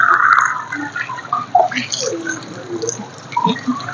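Water splashes and trickles in irregular bursts as hands scoop it onto the face during wudu washing, close and intermittent with dripping between splashes.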